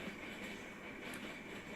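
Loud, steady rolling and rumbling of a BNSF interchange freight train bound for downstate Illinois as it passes close by, with faint wheel squeal and no talking.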